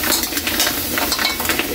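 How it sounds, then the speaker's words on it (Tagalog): Shrimp sauté in butter in a pan, giving a steady, loud sizzle with light crackles and occasional stirring clinks throughout. "Igigisa lang natin Kaylee para mas bumango sa butter"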